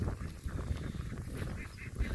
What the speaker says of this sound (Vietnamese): Này gọi là vịt cò hả em?